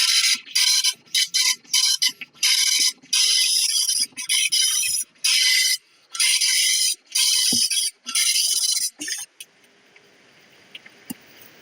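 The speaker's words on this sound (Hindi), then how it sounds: "ये वीडियो के अंदर जो काम कर रहा है प्रिंटर" An impact printer in a computer output-device lesson, rattling loudly in rapid mechanical bursts with short pauses between passes, then falling to a quieter whirring hum near the end.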